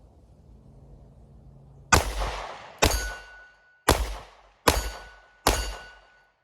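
Five loud, sharp 9mm pistol shots from a Sig Sauer P365 X Macro Comp loaded with Sig Sauer Elite Defense 115-grain jacketed hollow points, fired at a range at roughly one-second intervals, each with a brief ringing decay, after a quiet low hum.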